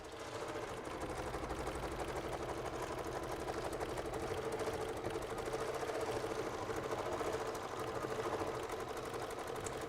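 An embroidery machine stitching a Kimberbell project in the hoop, producing a steady, fast rhythmic mechanical whirring and needle chatter that continues evenly for the whole stretch with no talking.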